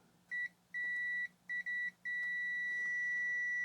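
Continuity tester on an electronics bench emits a series of short, clean beeps, then settles into one sustained tone in a quiet room.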